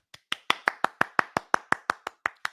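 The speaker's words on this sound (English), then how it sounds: "Let's give a round of applause to 1 second of accountability." Hands clapping in a steady, even rhythm, about a dozen sharp claps close by with short gaps between them.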